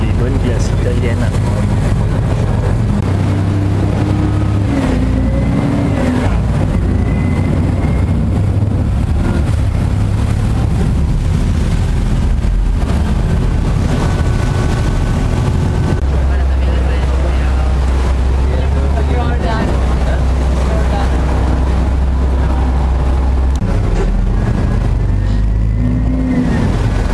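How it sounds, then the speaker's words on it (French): Motorboat engine hums and revs close by while a boat delivering Italian ice cream passes on the water, with wind buffeting the microphone and a voice talking over it throughout. "Le bateau qui livre les bonnes glaces italiennes."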